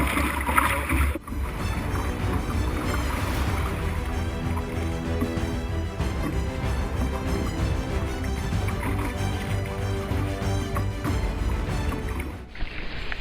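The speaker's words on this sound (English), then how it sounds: "Let's see if we can get some surfing on these smaller swells" An ocean rowing boat surfs down small Atlantic swells on a solo crossing, giving a steady, loud wash of water and hull rush throughout, with a brief break early on and the sound dropping away near the end.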